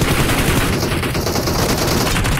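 Rapid gunfire in a video game, dense and loud, with machine-gun bursts running continuously through the clip.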